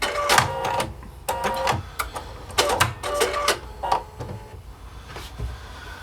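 A sewing machine fitted with a flat felling foot runs along a napkin edge, giving close, rhythmic mechanical whirring in short bursts separated by brief pauses.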